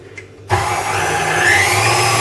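An electric whisk starts abruptly and runs steadily at full speed, whipping a homemade ice cream mixture with a loud, continuous whirring buzz and no talk.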